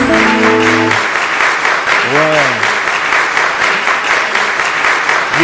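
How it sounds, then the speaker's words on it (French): Sustained crowd applause at a concert fills the whole stretch, dense and steady, with brief tonal sounds early on and a short rising-falling whistle in the middle. "Applaudissez, applaudissez."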